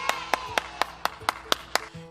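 A single person claps in an even rhythm, eight or nine sharp claps spaced about a quarter second apart, close and distinct over a faint background, with no talking.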